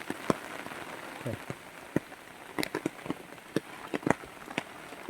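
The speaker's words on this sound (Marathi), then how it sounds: "पाऊस पडता जोरात चालू झालो आता" Rain falls steadily at a butterfly village tree house in Parpoli, a soft continuous patter broken by scattered sharper drips and knocks close by.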